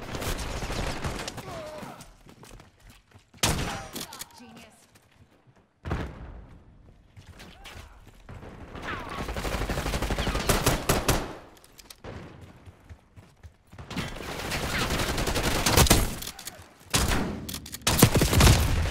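Gunfire in the video game Black Ops 6 comes as loud bursts of rapid shots and fusillades, alternating with quieter gaps and building to dense, heavy volleys near the end.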